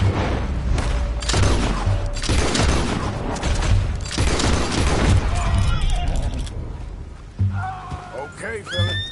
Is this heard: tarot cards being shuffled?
no